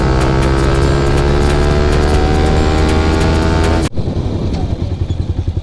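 A 155 cc motorcycle engine runs steadily up close with a loud, dense idle hum for about four seconds, then cuts abruptly, leaving quieter rumbling background noise.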